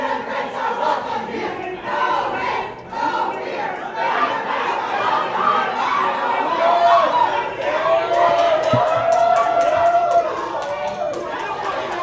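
A crowd gathered at the state capitol in Albany, New York, chatters and calls out as someone arrives and moves through it, the dense mix of voices steady throughout and swelling slightly toward the end.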